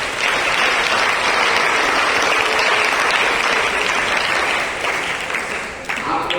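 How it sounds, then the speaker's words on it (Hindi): A school audience claps loudly in honour of teachers, dense sustained applause from a crowd filling the room, tapering slightly near the end, with no speech over it. "शिक्षकों के सम्मान में, आपके टीचर के सम्मान में बड़ा जोरदार तालियां बजाएगी"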